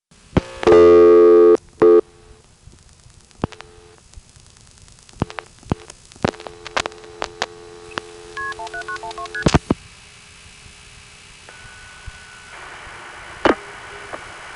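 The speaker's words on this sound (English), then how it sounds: "I'll just dial 17912." A 1978–1980 coin payphone in Greenville, North Carolina being dialed to code 17912, with a loud steady dial tone at first, then a sequence of short, separate tone bursts and clicks as the digits go through, ending in faint line hiss.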